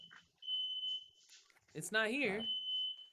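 A smoke alarm gives a long, steady high-pitched tone, broken briefly while people talk nearby, then resumes.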